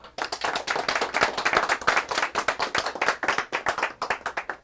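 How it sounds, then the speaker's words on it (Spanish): An audience applauds to welcome an inventor onto the stage, a room of hands clapping in a crisp, fairly sparse pattern where individual claps stand out, sustained and fairly close. "les voy a pedir que recibamos con un fuerte aplauso, los que estamos aquí, a Joaquín Machado"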